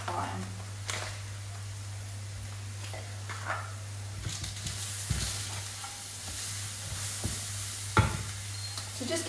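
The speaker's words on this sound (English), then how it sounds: "Saute the onions for 2 minutes, 3 minutes" Onions softening with Himalayan rock salt over medium heat in a pan, with a low sizzle under scattered stirring scrapes and knocks, a steady low hum running beneath and occasional sharper clatters.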